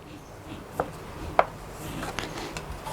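Knife cutting rested dough for Thai fried dough sticks on a board, a few soft, sharp taps and scrapes against faint background hiss; close and quiet, no talking.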